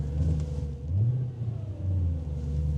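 An Audi car reverses with a low engine rumble and a rise in revs, its steady drone close and continuous for a few seconds, with no talking.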